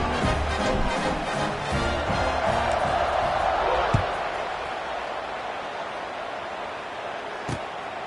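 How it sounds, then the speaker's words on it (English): A stadium crowd buzzes after a score in the College Football 26 video game, a broad, steady roar that swells at the start then settles, with a couple of sharp thumps. "this crowd is buzzing after that last score"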